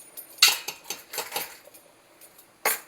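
A metal spoon clinks and scrapes against a cooking pot while tomato paste is added to a spicy tomato basil tortellini soup, a handful of sharp close taps in irregular rhythm with a final louder clank.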